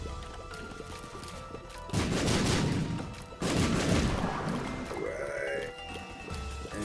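Bombs dropped by the Anarchist Cookbook item explode in The Binding of Isaac as two loud, broad blasts a second or so apart, set against looping game music and small chirping effects.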